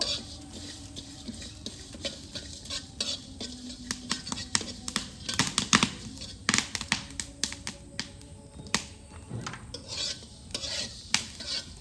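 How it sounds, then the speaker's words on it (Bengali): Panch phoron spices fry for mango pickle in a pan over an earthen clay stove, giving a steady low sizzle broken by frequent sharp crackles and scraping stirs close by, with no talking. "5 ফোড়ন আচারের জন্য প্রথমে আগে ভেজে নেব"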